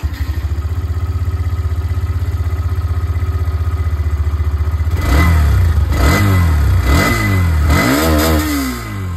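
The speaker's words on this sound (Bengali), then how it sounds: "দুটো বাইকেই বন্ধুগণ যে এক্সস্ট সাউন্ড, ওটাকে আপনাদেরকে শুনিয়ে দিই। স্টার্ট করি উইথ দিস এক্সট্রিম 125R।" A Hero Xtreme 125R motorcycle idles with a steady, even exhaust putter, then is revved hard in three or four rising and falling bursts, loud and close with no talking.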